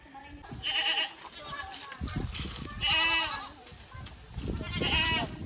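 A goat bleats three times at regular intervals, loud and near, each cry wavering; low rustling and handling noises fill the gaps between calls.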